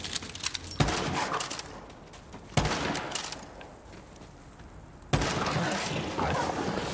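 Rifle shots fired in Borderlands 3, three sharp loud reports spaced a couple of seconds apart over continuous game noise and background clatter.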